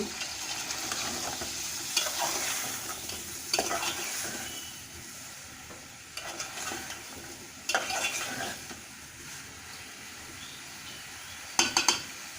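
Pumpkin with shrimp and beans sizzling in a pan, a soft continuous fry broken by several bursts of utensil scraping and clinking as it is stirred, no talking.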